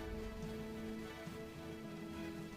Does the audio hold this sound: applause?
no